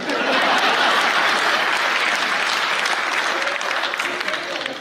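An audience at a Hindi comedy poetry gathering, a hasya kavi sammelan, claps loudly and steadily, a dense, even roar of many hands that holds throughout and eases off only slightly near the end.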